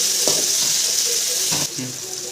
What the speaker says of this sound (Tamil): தக்காளியை சேர்த்துட்டு இதையும் வந்து நம்ம நல்லா வதக்கிக்கலாம்.